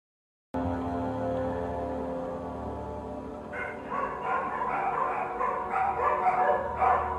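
Dogs bark repeatedly over a steady droning background, the barks bunching into a busier stretch toward the end, moderately loud and close.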